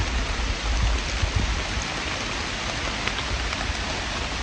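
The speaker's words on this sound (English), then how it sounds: "I don't know how much worse the rain's going to get." Rain falling in a forest valley, a dense steady patter of drops on leaves and ground with occasional louder taps, continuous and close, with no talking.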